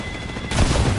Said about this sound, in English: What a nade!